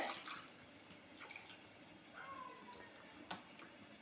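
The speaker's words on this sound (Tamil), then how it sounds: "கொஞ்சம் தண்ணி சேர்த்து தண்ணி சட்னிங்கிறதுனால கொஞ்சம் தண்ணி சேர்த்துக்குங்க" Water is poured into chutney in a kitchen vessel, giving soft, faint trickling and splashing with a few small drips. The sound is quiet and close, and no one speaks.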